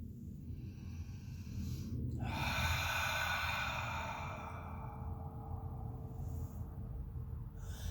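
A slow cleansing breath during a chair yoga session: a quiet inhale builds into a long, breathy exhale that fades out, close and soft with no talking.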